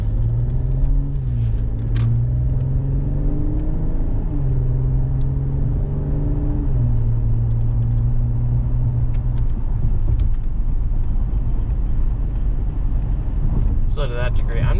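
A 2019 Mercedes E450 4Matic AMG Sport being driven hard into a corner, its engine droning loud and steady up close, with pitch shifts as it works through the bend and gear changes.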